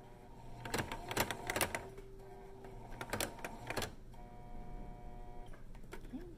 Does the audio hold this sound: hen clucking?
no